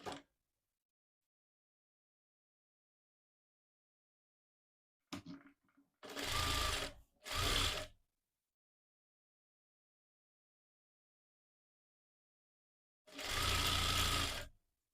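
Sewing machine stitching piping onto a blouse neck, three loud close bursts of rapid whirring stitching, two short runs back to back and one after a long silence.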